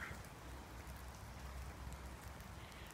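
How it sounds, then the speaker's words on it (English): Steady rain falls through woodland during a wet walk, a dense, even hiss of drops on leaves and ground with a soft low rumble beneath, constant and unbroken with no voices. "Rain is so very, very important."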